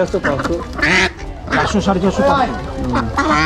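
Several country ducks quack loudly and close by in overlapping bursts at a rural poultry market in South Kolkata, busy and continuous, with a few people murmuring in the background.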